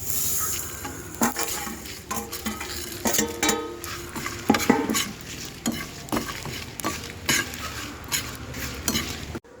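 About ten dry red chillies, fenugreek, mustard seeds and a piece of asafoetida dry-roasting in a pan, heard as a soft crackle broken by repeated scraping strokes and clinks of a spoon against the metal, close and fairly loud.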